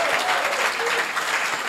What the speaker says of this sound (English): The way you are clapping for our man of God